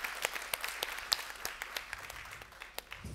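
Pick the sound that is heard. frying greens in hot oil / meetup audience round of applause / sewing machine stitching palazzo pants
meetup audience round of applause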